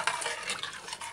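A spoon stirs shrimp pumpkin curry stew in a saucepan, one short soft scraping swish of utensil against the pan, close and alone.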